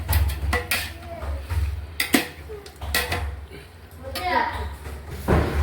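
Chicken and masala are stirred inside a pressure cooker for biryani; a spoon clanks and thuds against the metal pot in irregular knocks, with a person talking over the clatter.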